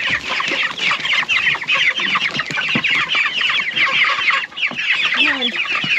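Dense, loud chorus of Cornish Cross meat chicks clucking and peeping up close, a continuous busy chatter of overlapping calls as the birds are moved out to pasture.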